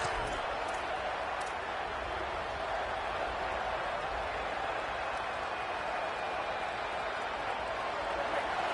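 A home crowd at a football game roars steadily through a third-down defensive stand, a broad sustained wall of cheering and noise that stays loud throughout, with a commentator's voice under it.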